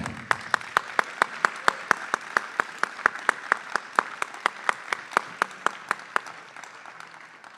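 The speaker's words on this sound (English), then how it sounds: "How about another round of applause for Craig?" Audience applause at a recovery celebration event, heard as a steady, evenly spaced run of distinct claps, moderately soft and fairly close, with faint room murmur underneath.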